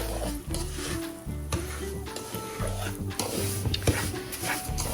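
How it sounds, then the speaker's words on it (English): Semolina (suji) roasting in oil in a pan as it is stirred until light brown, giving a steady close sizzle broken by repeated scraping strokes of the spoon and low background hum, with no talk. "suji, oil and suji together, and we're going to cook it until it's light brown in color"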